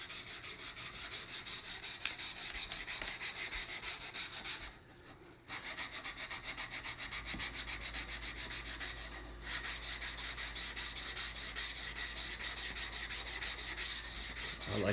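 An old high-carbon steel butcher's knife is stroked across a grit stone, a close, steady rasping rub repeated in even back-and-forth passes, pausing briefly twice.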